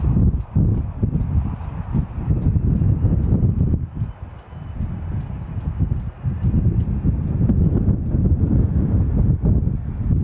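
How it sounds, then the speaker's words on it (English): Gusty wind buffets the microphone at Dublin airport as a Ryanair arrival from Glasgow comes in. A loud, continuous low roar swells and dips with each gust. "Crikey, that is gusty."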